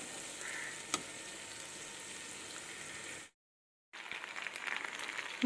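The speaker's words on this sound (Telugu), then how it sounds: "ఇప్పుడు మనమైతే పాస్తాలు వేసుకుందాం ఇందులో." Pasta sizzling as it fries in a pan for egg pasta, a steady, fairly quiet hiss that cuts out briefly, then returns a little stronger.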